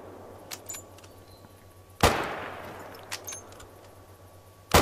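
A single sharp Mosin Nagant rifle shot fired from the hip in theHunter: Call of the Wild, a loud close crack with a decaying tail, followed by faint clicks and a second abrupt burst at the very end.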